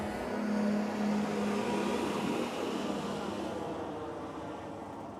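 Race cars on the last lap at Rother Valley drone past in a steady engine roar that slowly fades as they move away.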